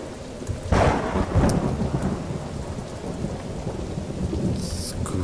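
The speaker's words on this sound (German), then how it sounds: "Ah, jetzt regnet es wieder." Rain and thunder in the survival video game Welcome to Hanwell, a steady downpour hissing throughout with loud thunder cracks rumbling near the start and again partway through.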